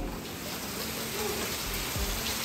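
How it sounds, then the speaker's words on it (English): Heavy rain pours steadily outdoors, a dense continuous hiss with drops pattering on surfaces, loud and unbroken, with a faint low rumble underneath. "as you can see, the rain out there is absolutely terrible."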